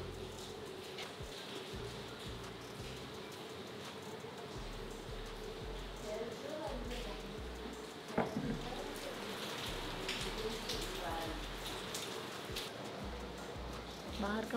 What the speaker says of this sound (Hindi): 2 बज रही है और बारिश चालू हो गई है